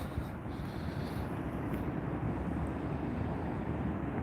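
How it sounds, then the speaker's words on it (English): Wind buffets the microphone on an outdoor walk in Montreal on a breezy day, a loud continuous low roar with gusty swells and no voices. "Oh, sorry about the wind, guys. Yeah, I apologize. It is a bit breezy."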